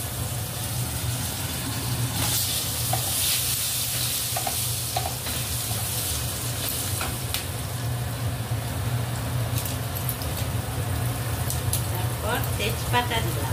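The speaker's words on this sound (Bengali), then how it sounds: "আলুগুলি লাল করে ভেজে নেব।" Potatoes fry in oil for a katla fish curry with turnip, giving a steady, dense sizzle close by, with occasional stirring scrapes throughout and people speaking softly over it.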